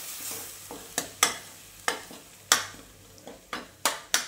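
Repeated sharp scrapes and taps of a spoon in a pan over a soft sizzling hiss as spice paste cooks with tomato-paste water, roughly every half second, close and fairly loud.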